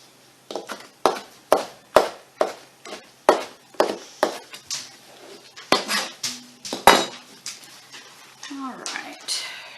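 A knife chops vegetables coarsely on a board for shrimp quesadillas, with about a dozen sharp, evenly spaced knocks, close and clear, and a few soft clinks of kitchenware near the end.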